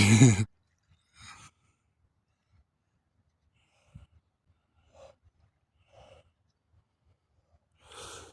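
Deep breaths from a person after an ice-hole cold plunge: a loud exhale at the start, then several soft, spaced breaths and snorts in near silence, ending with another audible breath.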